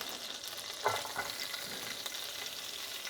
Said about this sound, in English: now we want to cook the onion.